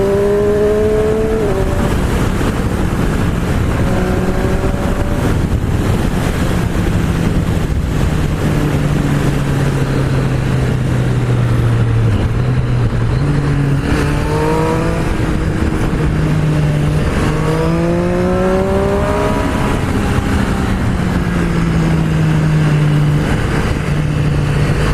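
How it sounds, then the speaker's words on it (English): A Triumph Street Triple 765RS motorcycle with its stock exhaust revs through rising and falling engine tones while riding, loud and close under heavy wind rush, with no talking. "It sounds nice with a stock exhaust on it"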